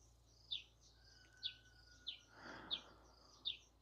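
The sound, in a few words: birds chirping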